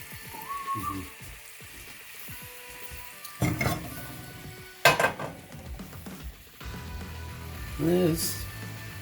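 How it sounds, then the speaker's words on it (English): Philly cheesesteak filling of meat sizzles in a pan on a stovetop, a soft crackling hiss near the mic broken by scraping stirs and clatters, with someone speaking briefly over it. "Let that start sizzling."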